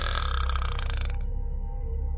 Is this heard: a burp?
yes